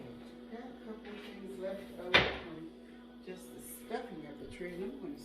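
A bag knocks against a garage door with one sharp, hollow thump partway through, while a person talks quietly before and after the impact.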